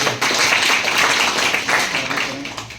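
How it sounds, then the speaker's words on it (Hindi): An audience at a college gathering claps loudly for a guest, a dense, sustained wash of many hands that stays strong and eases slightly at the end. "एक बार जोरदार ताली बजाते"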